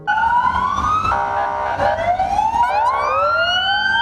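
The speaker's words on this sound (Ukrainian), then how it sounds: "Карета швидкої медичної допомоги у супроводі поліції з увімкненими проблисковими маячками та сиреною проїхалася містом" Loud wailing ambulance siren, escorted by police, rising and sweeping repeatedly, with overlapping siren tones and a low engine rumble beneath, close by in a city.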